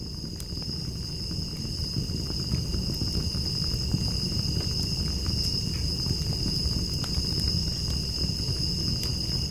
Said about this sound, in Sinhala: රැකෑම් ෆයර්කක ශබ්දය